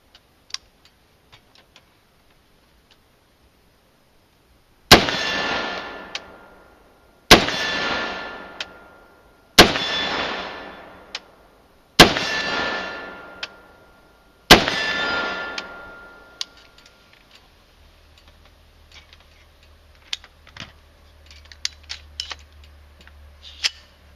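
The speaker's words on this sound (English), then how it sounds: "Let's shoot 5 more rounds so we get a 10-round average" A CMMG Mutant rifle fires five evenly spaced, loud shots during muzzle velocity testing. Each sharp report rings out and fades, with near silence before and only faint scattered noises after.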